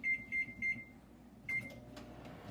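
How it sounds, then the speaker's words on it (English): A microwave oven beeps three times in quick succession, then once more after a pause, its hum running underneath while a bean bag heats inside. "You put it 35 seconds in the microwave."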